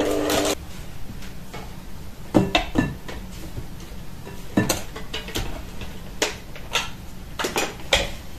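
A utensil scrapes and clinks against a bowl while egg yolks are mixed with marsala and mascarpone, irregular knocks and taps spaced over quiet stretches.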